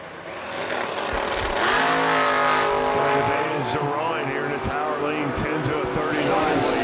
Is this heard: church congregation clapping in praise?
no